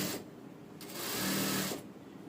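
Sewing machine stitching a fine straight seam on a princess-cut padded blouse, a close steady mechanical whir of about a second that rises and stops, with quieter machine bursts just before.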